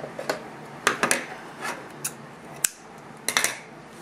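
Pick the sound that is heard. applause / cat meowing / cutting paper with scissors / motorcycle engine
cutting paper with scissors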